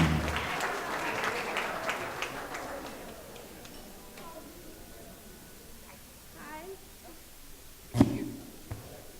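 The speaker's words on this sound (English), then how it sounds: "Give her a round of applause." A wedding crowd claps loudly at first, the applause gradually thinning and fading out, with scattered voices and a sharp knock near the end.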